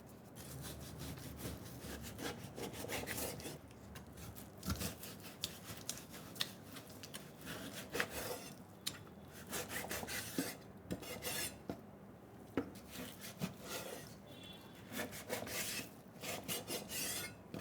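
A knife trims excess chewy parts from pat-dried pork belly on a cutting board, giving repeated scraping, rasping strokes with irregular rhythm and occasional sharper knocks, close and fairly quiet with no voices.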